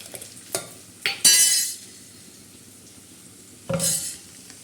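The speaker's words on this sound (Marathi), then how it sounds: "आणि गाडीमध्ये थोडीशी हळद टाकणार आहोत हलवून घेणार आहोत तुरीची आणि मुगाची डाळ" A spoon stirs toor and moong dal with turmeric in a pan, giving several loud scraping and clinking strokes, a brief sizzling burst, then a quiet stretch before another short scrape.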